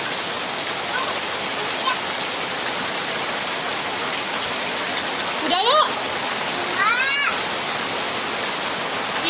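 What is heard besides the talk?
heavy rain pouring down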